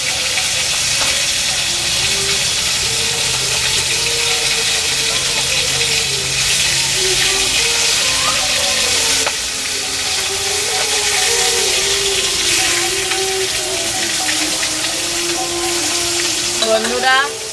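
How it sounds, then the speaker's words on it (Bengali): Fresh pond-caught fish fry loudly in a pan of hot oil, a dense, constant sizzle up close, with occasional stirring scrapes and clinks toward the end. "আমার মাছগুলো ভাজা হয়ে গেছে, আমি এবার তুলে নিচ্ছি মাছগুলোকে।"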